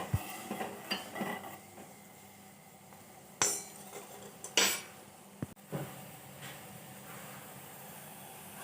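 Ginger and cloves are pounded finely for tea, with a few sharp metallic knocks and clinks spaced out over the clip. The strikes are close and separated by quiet gaps.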